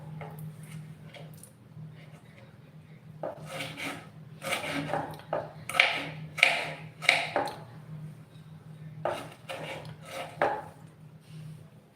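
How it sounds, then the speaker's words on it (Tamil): A knife chops tomatoes finely on a board for a capsicum tomato sabji, giving clusters of quick, close, crisp taps with pauses between bursts, over a steady low hum. "தக்காளியை வந்து முடிஞ்ச அளவுக்கு பொடி பொடியாக நறுக்கி நம்ம எடுத்துக்கலாம்"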